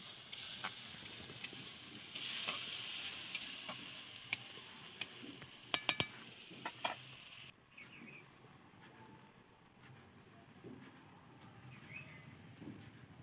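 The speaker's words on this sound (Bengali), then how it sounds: "পেঁয়াজ বাটাটা দিয়ে দিলাম এই সব মশলাগুলো একসঙ্গে একটু ভালো করে ভেজে নিতে হবে" Onion paste and spices frying together in a pan, a faint, hissy sizzle with scraping stirs and a few sharp clicks, fading quieter partway through.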